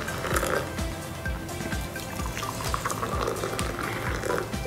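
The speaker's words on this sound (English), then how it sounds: "I'm going to pour hot water" Hot water being poured into two glasses makes a steady, continuous splashing and gurgling stream that runs close and fairly loud for the whole stretch.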